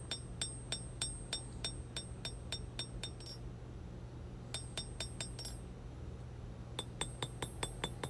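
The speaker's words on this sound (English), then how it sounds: "Just working it from the blade to handle transition with the hammer." Sharp metallic hammer strikes ring out in quick bursts as a steel knife blade is forged at the blade-to-handle transition, several blows in a row, a pause, then more rapid clanging blows on metal.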